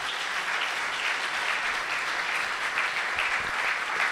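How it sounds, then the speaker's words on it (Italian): An audience at a school event in Vittorio Veneto applauds a municipal councillor; steady, dense clapping continues without a break for several seconds at moderate volume. "vi prego di accogliere con un applauso"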